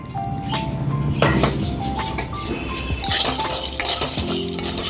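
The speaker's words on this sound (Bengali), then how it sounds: "এবার আমি একটু শুকনো কড়ায় বড়িটা একটু নেড়ে নেবো" Dried lentil dumplings (bori) are stirred in a dry, hot wok, producing close, loud rattling clinks and scraping taps of utensil against metal in quick irregular bursts.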